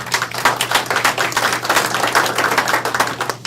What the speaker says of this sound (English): guys like Bob do need a round of applause just for doing what they do